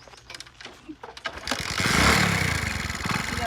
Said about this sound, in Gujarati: બાઇક ને શું છે કેમ ચાલુ નહીં થાતું